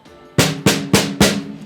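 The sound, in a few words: snare drum with stock heads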